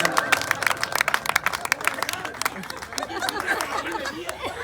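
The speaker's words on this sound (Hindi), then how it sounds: "जोरदार ताली बजाओ भाई साहब" A crowd claps at a lively Indian gathering, sharp uneven hand claps in quick bursts mixed with chatter and light laughter, the clapping thinning and becoming more scattered toward the end.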